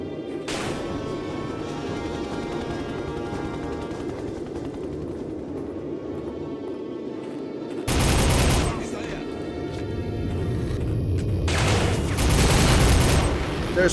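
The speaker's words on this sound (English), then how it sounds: "What the hell is shooting at me there?" Gunfire in the PC shooter Soldier of Fortune (2000): a steady layer of game noise broken by two loud, dense bursts of shooting, the second swelling and lingering, with booming impacts.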